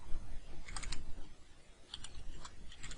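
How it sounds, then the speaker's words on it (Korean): Keys tapped on a computer keyboard while deleting text in a Photoshop banner layout, a few soft clicks in small clusters heard close up with no talking. "딜리트 키 눌러서 지워줍니다."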